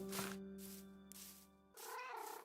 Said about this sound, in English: Holy cow, another cat.